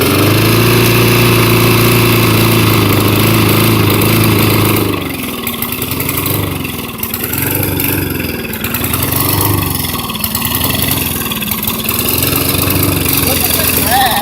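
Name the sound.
lawn mower engine running with weird noise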